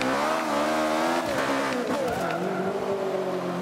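An Ariel Atom V8 screams through corners in Forza Motorsport 5, its engine note rising and falling with a hint of tire squeal, loud and close throughout with no talking.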